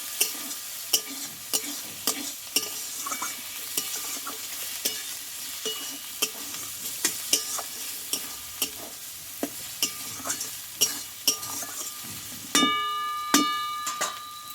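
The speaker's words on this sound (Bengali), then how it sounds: "মশলাটা কিন্তু আমার কষানো হয়ে এসছে আরও আমি কিছুক্ষণ কষিয়ে নেবো যাতে কাঁচা গন্ধটা চলে যায়" Masala spice paste for mutton being stirred and fried in hot oil, with steady sizzling and repeated sharp scrapes of a spoon against the pan, and a few metallic clinks near the end.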